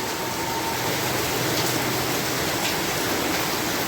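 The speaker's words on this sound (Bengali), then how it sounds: "সবচেয়ে সুন্দর লাগে পানিতে যখন বৃষ্টি ফোঁটা পড়ে" Rain falls steadily onto water in a village during an unseasonal summer downpour. It makes a dense, even hiss of many drops that stays loud and unbroken throughout, with no voices.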